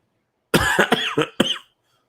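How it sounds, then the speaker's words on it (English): A close burst of about four harsh coughs in quick succession, then quiet. "I am sorry about the coughing tonight"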